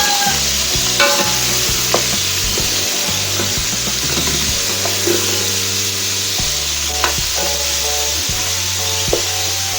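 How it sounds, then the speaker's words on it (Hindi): Mutton pieces fry in masala in a pot with a steady close sizzle, while a utensil scrapes and stirs in repeated knocks and scrapes. No one speaks. "अब हम इस गोश्त को इसके अंदर काफ़ी टाइम भूनेंगे।"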